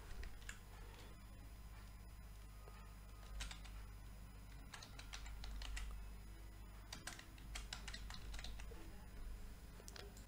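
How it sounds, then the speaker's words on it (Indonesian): Quiet, rapid typing on a computer keyboard: irregular bursts of soft key clicks close by, with brief pauses between runs of keystrokes over a low steady hum. "Lalu kita langsung ketik saja kata-katanya."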